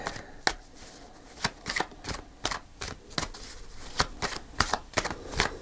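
A deck of tarot cards being shuffled at close range, with a run of crisp riffling snaps and soft card slaps in an uneven rhythm, alone without talk.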